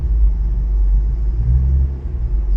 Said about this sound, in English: You see how I'm revving the car a little bit,